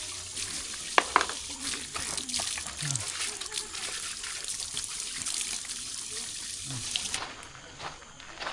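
Cold water from a hill stream trickles steadily at close range on a morning hillside hike, with occasional sharper splashes and faint voices in the background.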